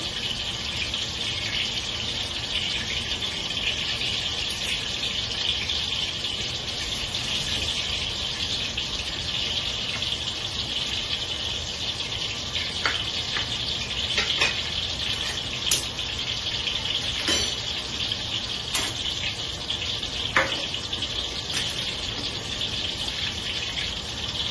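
A pork chop frying in a pan gives a steady, continuous sizzle with occasional small pops, fairly loud and even throughout.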